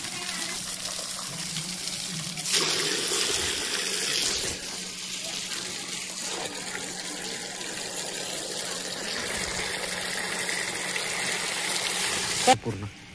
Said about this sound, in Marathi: थोडं सायकलवर पाणी मारून देऊ।